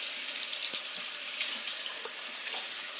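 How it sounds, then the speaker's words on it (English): Tap water runs steadily into a sink as a raw pork butt is rinsed beneath it, a continuous close hiss with small splashy shifts in the flow. "Down under the water."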